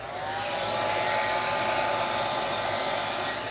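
A hair dryer blows steadily on a mixed media altered book page decorated with peacock napkins, a loud, constant whirring rush of air that holds unchanged throughout.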